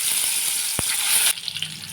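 Stuffed brinjals fry in hot oil in an iron wok with a loud, close hiss that drops suddenly to a quieter crackle after a sharp knock, no talking.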